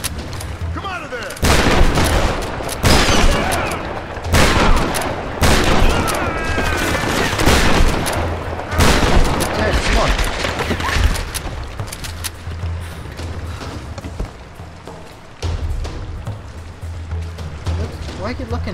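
Gunfire in Tomb Raider, with heavy bursts of shots and booms coming in dense clusters over about nineteen seconds, loud and close, with brief lulls between volleys.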